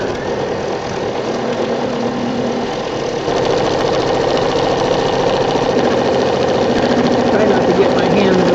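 An embroidery machine stitches a small St. Patrick's Day rainbow design in a 4x4 hoop, giving off a fast, steady mechanical whir and needle chatter that gets slightly louder partway through and runs on without pause.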